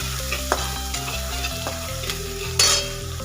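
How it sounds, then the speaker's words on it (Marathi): A paste of garlic, coconut and coriander sautés in a pan for a Maharashtrian sprouted horse gram dish, with a steady close sizzle and spoon stirring throughout, plus a sharper clink or scrape near the end. "कलर चेंज होईपर्यंत आपण परतून घेऊ"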